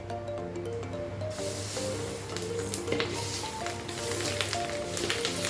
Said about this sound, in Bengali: ভাজার জন্য সাদা তেল দিয়ে দিচ্ছি